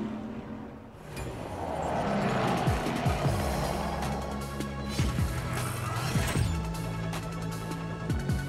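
A Pagani Huayra BC racing in CSR 2 gives a loud game engine sound, with revs climbing in repeated upward sweeps and sharp shift clicks as the gears change, alongside mechanical clatter and no speech.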